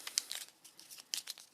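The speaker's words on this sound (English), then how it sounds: "Quick shuffle." Cardboard tiles from the Lost Ruins of Arnak board game being quickly shuffled on a table, a few soft scraping clicks and crinkly rustles in short bursts, close and quiet.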